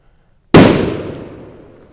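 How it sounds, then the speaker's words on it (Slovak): Dumbum 5G firecracker bursting inside a soft, rotten tree stump outdoors: a single sharp, loud bang after a moment of quiet, followed by a long fading rumble of debris and echo. "vložíme si tam petardu Dumbum 5G a celé to odpálime, totálne sa to rozletí"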